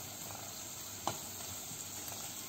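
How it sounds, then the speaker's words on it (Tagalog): Onion, garlic and ginger sauté together in a pan, a faint, steady sizzle with one brief clink partway through and no talking. "Kahit pa may kasama yan siyang ginger, sabay-sabay ko silang tatlong nilalagay."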